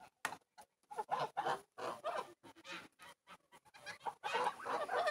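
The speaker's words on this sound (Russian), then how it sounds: "Петушок попался." A rooster clucks in short, uneven bursts close by in a garden plot where geese also roam, with brief pauses between the calls and no speech.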